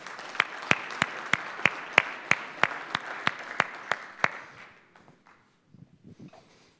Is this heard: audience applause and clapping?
yes